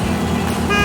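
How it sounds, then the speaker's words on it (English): A heavy hauler truck drones in a brief, loud, steady low rumble with a horn-like tone running through it, close at hand. "Heavy hauler."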